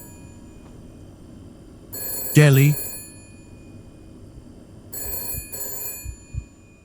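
An in-game Vox phone rings in Shadows of Doubt, two loud bursts of bright electronic trilling with a pause between, while someone speaks over the first ring.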